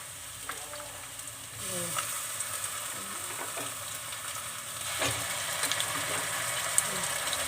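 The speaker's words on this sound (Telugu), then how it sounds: "ఇక్కడ అల్లం వెల్లుల్లి పేస్ట్ బాగా ఫ్రై అయింది" Ginger garlic paste frying in oil for keema: a close, steady sizzle with intermittent stirring scrapes and clinks, growing a little louder partway through.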